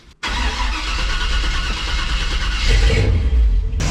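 A car engine cranks and catches after a brief pause, then runs steadily and grows louder toward the end, close and alone, during a battery-versus-alternator check on a tow vehicle.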